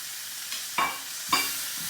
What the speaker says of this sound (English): So we're frying up our kale.